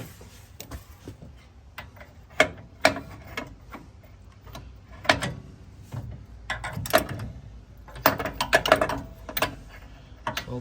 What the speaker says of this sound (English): So I just put a 21mm socket on right here.